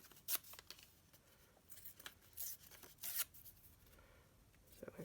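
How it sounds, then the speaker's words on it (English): Paper with printed words is ripped by hand for a junk journal, giving several quiet, brief tearing rips in irregular bursts, close and soft, with no talking. "So we'll just rip these."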